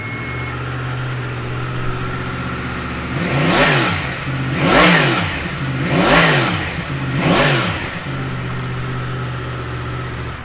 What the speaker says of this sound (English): Stonking engine these